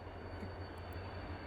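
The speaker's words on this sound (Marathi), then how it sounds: "हे बघा, आली तिकडनं पुन्हा एक मेट्रो." Mumbai metro train arriving at a station: a low, steady rumble with a faint high whine, heard at a distance, quiet and continuous, with no voices.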